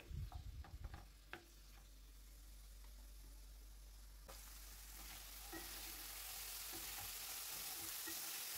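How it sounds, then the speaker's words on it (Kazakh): Meat frying in hot vegetable oil in a pan for a Kazakh-style dimlama, a steady sizzle that grows louder and denser over several seconds after a few sharp stirring clatters at the start, with no talk. "табамызға сұйық май құйып, қыздырып алғаннан кейін етімізді салып 10-15 минут жақсылап қуырамыз"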